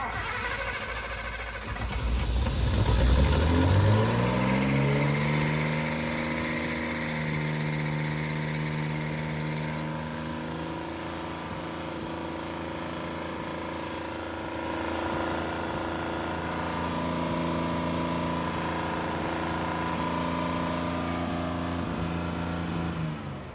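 A small carbureted engine runs steadily at a fast idle with its throttle screw backed all the way out, the drone rising in pitch after startup and then holding a constant, loud, near hum.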